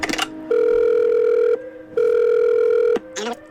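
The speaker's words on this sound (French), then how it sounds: "On va rappeler le bro là, Colin" A telephone in the Do Not Feed The Monkeys game rings out two long, even tones separated by a short gap, loud and close, with brief clicks before and after.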